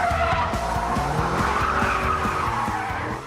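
A loud Holden car engine revs hard while tires skid and squeal continuously, a close, sustained roar with rising engine tones.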